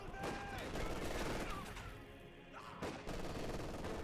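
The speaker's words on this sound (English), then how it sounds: "Song's being peppered here by shots from the Grenadiers on the retreat path." Grenadier rifle and machine-gun fire crackles in a Company of Heroes 2 battle, dense overlapping shots and bursts over constant game noise, with a voice commentating over it.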